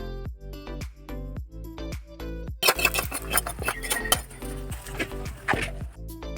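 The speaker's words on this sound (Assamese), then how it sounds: "দাদা এয়া লৰাই আছে চব্জিখিনি" Vegetable sabji is stirred in a pot with a metal spatula, giving repeated clinks and scrapes of metal on metal, close by over background music.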